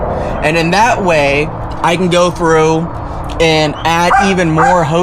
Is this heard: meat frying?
no